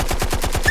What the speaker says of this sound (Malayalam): എടാ, വെടിയുടെ ശബ്ദം.